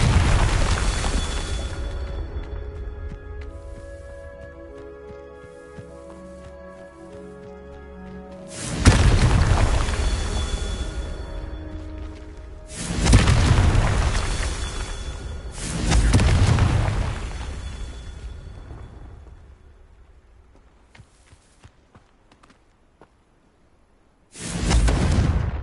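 In the video game Hogwarts Legacy, Confringo explosion spells go off as several heavy booming blasts with long rumbling tails, loud and close, separated by quieter stretches of ambient game music and near silence.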